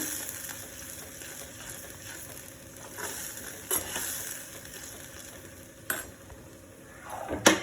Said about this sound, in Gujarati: હવે એને થોડીક વાર આવી રીતના હલાવીને સાતડી લેવાની છે